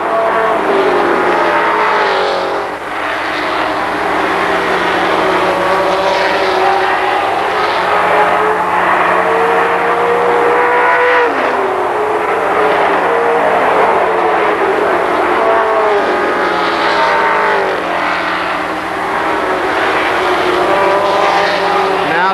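Race cars roar around Kil Kare Speedway during the 1996 Labor Day Championship, with engines continuously whining and revving up and down in rising and falling pitch as cars pass close, under a steady crowd of engine noise.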